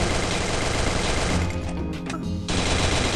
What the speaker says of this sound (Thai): ถ้าเรายิงรถเนี่ยออกมาจากในอุโมงค์เนี่ยรถนี่จะพังหรือเปล่านะ